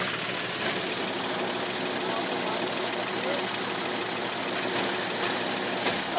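Engine running on a car driving a dirt trail at Cerro Branco, a steady moderate hum with faint rattles, heard from inside the vehicle while people talk.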